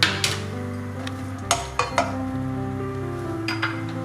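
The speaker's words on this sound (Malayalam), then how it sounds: "വെളിച്ചെണ്ണ ചൂടായി വരുമ്പോൾ നമ്മൾ ചെറുതാക്കി നുറുക്കി വെച്ച ബീട്രൂട്ട് ഒന്ന് വഴറ്റിയെടുക്കുക" Chopped beetroot sautéing in hot coconut oil in a pan, a steady low sizzle under clattering spoon strikes and scrapes against the metal, a handful of sharp clinks spread through.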